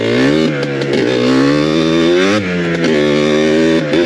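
A Yamaha Blaster ATV's small two-stroke engine revs hard while being ridden, its pitch climbing and dipping through gear changes, loud and close with a brief drop in revs midway.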